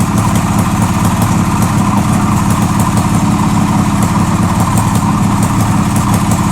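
A 1989 Harley-Davidson motorcycle engine runs steadily at idle, a loud, close, even rumble with a regular low pulsing beat throughout.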